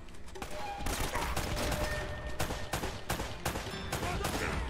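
Gunfire in Uncharted as enemies are shot: dense volleys of rapid automatic shots and impacts, loud and continuous with brief gaps, a voice occasionally heard beneath the firing.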